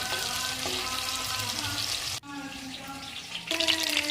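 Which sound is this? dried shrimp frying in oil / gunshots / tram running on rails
dried shrimp frying in oil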